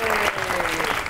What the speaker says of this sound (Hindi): आपकी बहुत सी तालियों में रोमा माइकल